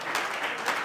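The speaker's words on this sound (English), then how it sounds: "Let's continue to clap for her." Audience applause at an annual conference on innovation and entrepreneurship, a short steady patter of many hands clapping with a couple of swells, no speech over it.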